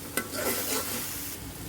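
Chicken paste with chili, turmeric and coriander powder stir-fried in oil, with a close continuous sizzle and a sharp scrape of a spatula against the pan near the start.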